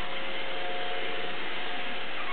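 A Roomba robot vacuum cleaner runs with a steady, unbroken whir and hiss in a home with dogs, close and fairly loud with no change in level throughout.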